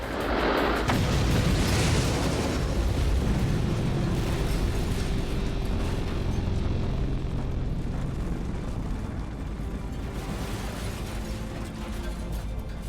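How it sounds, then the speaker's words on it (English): A dramatized bomb explosion inside an airliner's cargo hold: a loud, dense roaring blast that swells at the start and rumbles on steadily with low, heavy turbulence for several seconds, no voices. "Once the bomb is in the hold, it is simply a question of timing when it will go off."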